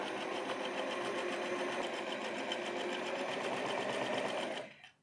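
A sewing machine stitches steadily down the legs of men's pants, running as a fast, even, close mechanical whir for several seconds before stopping abruptly.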